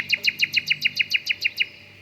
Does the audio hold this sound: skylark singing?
yes